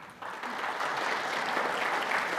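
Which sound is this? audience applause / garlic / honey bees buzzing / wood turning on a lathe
audience applause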